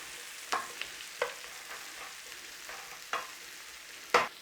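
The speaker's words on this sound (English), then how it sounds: "Peppers, boom, in there. Little bit of cooking on those as well." Sliced peppers cooking in a pan for one-pot chorizo pasta give a quiet, steady sizzle, broken by a few brief clatters of stirring or of pieces landing in the pan.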